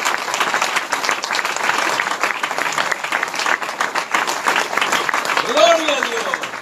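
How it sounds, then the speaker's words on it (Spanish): A church congregation applauds steadily throughout, dense continuous clapping at fairly close range with a preacher's voice rising over it near the end. "Denle un aplauso al Señor Jesucristo."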